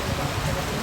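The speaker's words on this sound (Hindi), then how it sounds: "आज सुबह सुबह नोएडा का इतनी तेज़ बारिश हो रही है" Heavy early-morning rain in Noida falls in a dense, steady hiss, with strong wind adding to the constant wash of sound.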